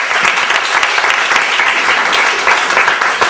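A church congregation applauding to acclaim the Lord during a prophetic worship service: loud, dense, sustained clapping from many hands filling the room, with faint voices underneath.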